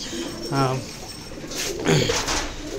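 Pet pigeons in a cage give two short low coos, close by, with someone talking over them in a room.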